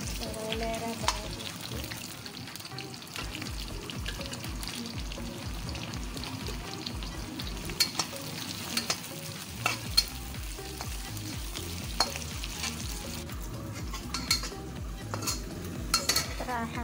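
Ginger, shallots and garlic sizzle and fry in a pan for a chicken-feet dish with basil, a steady close frying hiss with occasional clinks of a utensil stirring against the pan.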